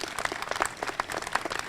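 The crowd at a college library and learning center groundbreaking ceremony gives a short burst of scattered clapping, moderately loud and fairly close.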